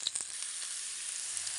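Small shallots fry in hot oil in a pan, giving a steady, even sizzle that carries on alone with a few faint pops near the start.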